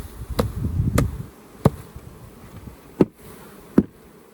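Honey bees buzz around an open hive during a summer dearth, a low droning hum at first, then several sharp knocks and taps from hive work at irregular intervals.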